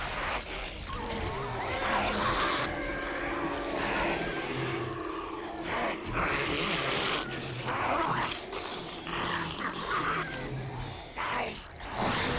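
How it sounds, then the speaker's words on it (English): Zombie dogs in the video game 7 Days to Die snarl and growl continuously, a dense, rough, noisy stretch of overlapping animal sounds with irregular bursts throughout and no speech. "More dogs."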